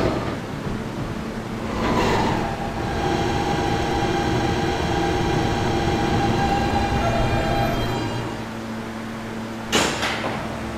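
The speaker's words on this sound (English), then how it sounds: "This is a Catlin-bound E train." An R160B E subway train runs steadily through the tunnel, its rumble and rail noise filling the car with sustained tonal whine from the motors, bracketed by louder clatter near the start and end.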